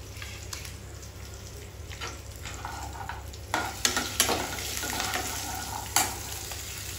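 Dried red chillies sizzle steadily in hot oil in a pan for mango pulihora, a continuous close frying hiss with a few sharper pops and stirring clatters.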